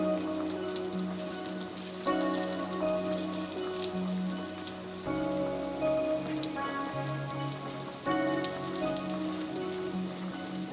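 Meatless meatballs fry in a pan, about six at a time, giving a continuous close crackling sizzle with faint stirring and shifting sounds and no talk.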